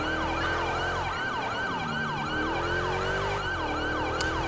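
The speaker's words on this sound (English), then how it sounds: "I don't like the sound of approaching sirens coming up behind me." Wailing police sirens in GTA V with the LSPDFR mod sweep up and down in steady repeating cycles, loud and continuous over the hum of road traffic, with no talk.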